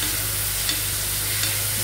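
Fried rice with corn being stir-fried in a pan, a steady close sizzle with soft scraping from stirring, continuous and even throughout, with no voices.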